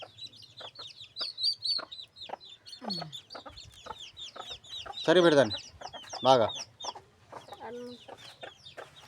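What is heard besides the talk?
chickens clucking while roaming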